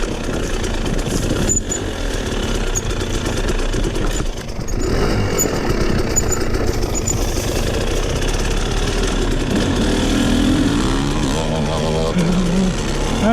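A Husqvarna dirt bike engine on a trail at Carnegie SVRA, running loud and close with a steady mid-pitched drone that rises and falls as the throttle changes.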